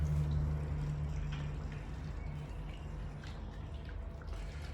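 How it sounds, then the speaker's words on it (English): Water bubbling and dripping inside the absorber chamber of a Surgivet anesthesia machine, soft irregular gurgles and drips over a steady low hum, close and quiet with no speech. "And right there, this chamber down here starts to bubble."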